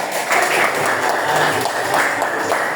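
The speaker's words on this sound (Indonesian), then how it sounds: "Boleh tepuk tangan." Classroom applause from pupils in an Indonesian lesson on the digestive system, a short burst of steady clapping with a faint voice or two mixed in.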